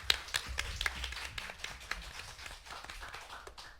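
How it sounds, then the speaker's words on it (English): A small audience at a student-election candidate question time claps to welcome a speaker, scattered individual hand claps in an uneven, sparse patter that thins out toward the end. "maybe a warm round of applause to welcome you into the space"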